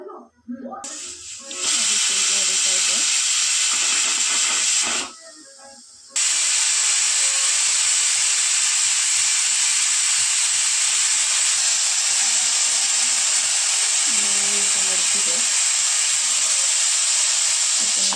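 Pressure cooker on a stove shrilly whistling and releasing steam, a sustained loud hiss that cuts out briefly around five seconds, then resumes steadily to the end, with faint bits of background voice.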